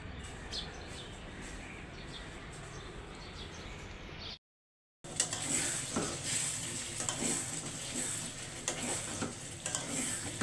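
Flat beans (shim bhaji) frying in a pan, a steady soft sizzle with occasional stirring scrapes and faint bird chirps in the background; a brief cut of silence splits the clip, and the sizzle returns louder.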